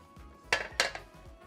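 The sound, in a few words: draining cooked vegetables in a pot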